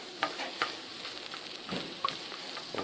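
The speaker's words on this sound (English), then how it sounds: "I'm just going to fry these up a bit. So we get rid of all the moisture that they're going to let out." Pie filling fries in a pan for a braai pie, soft steady sizzling broken by several scraping stirs and light clicks of a utensil, close and fairly quiet.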